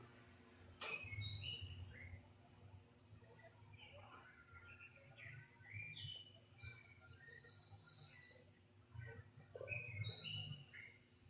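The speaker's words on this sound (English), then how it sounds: "Pretty birds." Small birds chirping and tweeting in quick, scattered bursts, fairly close but quiet, over a low steady hum and faint background murmur.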